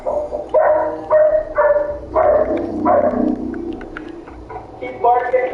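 A dog barks in the video game Fallout 4, with a run of loud, evenly spaced barks close by and voices talking over part of it.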